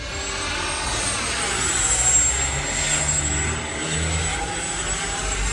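An FMS Rafale 80mm electric ducted-fan RC delta jet flies overhead with a steady, loud, rushing whine that swells slightly and fades as it passes through manoeuvres, heard alone outdoors.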